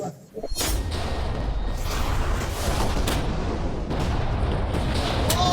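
A deep, loud rumbling video game explosion erupts and keeps roaring with crackling, thudding bursts throughout, dense and close.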